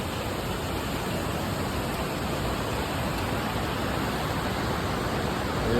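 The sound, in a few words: waterfall at the bottom of Whitewater Falls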